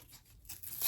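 Tape torn by hand from a roll, a short, quiet ripping that grows louder and ends in a brief, sharper tear.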